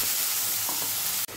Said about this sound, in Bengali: ওই তেলের মধ্যে আমি একটু জিরে দিয়ে দেবো।